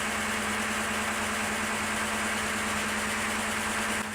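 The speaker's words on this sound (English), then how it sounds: "When I first started it up, it was a little bit noisy, but it seems like it's quieting down." A budget Ford 302 V8 with new low-cost roller lifters idles on a dyno, a loud, steady, even drone with a constant hum and no voices.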